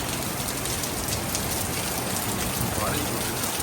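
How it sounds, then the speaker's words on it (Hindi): Heavy downpour at night in Delhi, a dense steady roar of rain hitting surfaces throughout, loud and close with no pause and no voices. "बहुत भयंकर बारिश हो रही है दिल्ली में"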